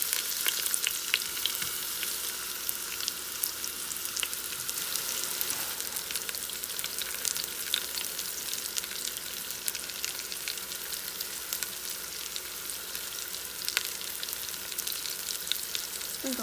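Pork browning in oil inside an Instant Pot, a dense continuous crackling sizzle held steady and close throughout, with scattered sharp pops and no talking.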